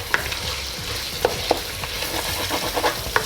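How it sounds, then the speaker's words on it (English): Beef stew base sizzles and fries in a pot, a steady close crackle broken by a few sharp scraping clicks of a utensil stirring against the bottom. "That's the sizzle. That's the sound that I like."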